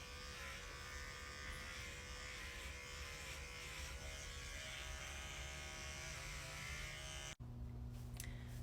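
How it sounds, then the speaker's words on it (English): Electric clippers buzzing steadily while shaving a spot on a sleeping miniature horse foal's neck, a constant close whine that cuts off abruptly near the end, leaving a quieter hum. "I'm gonna shave a little spot on her neck to make it a little bit easier to draw blood."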